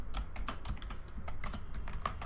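Quick, irregular clicks of a computer keyboard as C code is typed, a close, fairly quiet stream of keystrokes with no voice.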